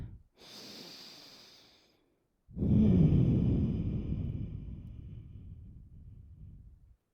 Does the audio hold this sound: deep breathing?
yes